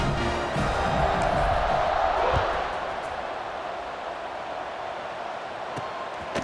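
A stadium crowd roars and cheers at kickoff in an American football video game. The broad roar is loud at first, then eases to a steady background rumble.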